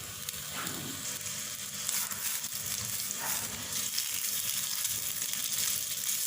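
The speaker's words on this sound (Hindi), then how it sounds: "इसमें तेल थोड़ा सा गर्म हो जाए तो अपने कबाब इसमें डालेंगे और उनको शैलो फ्राई करेंगे।" Chicken seekh kababs shallow frying in a small amount of hot oil in a pan, with a steady, close sizzle and crackle that continues throughout, no voices.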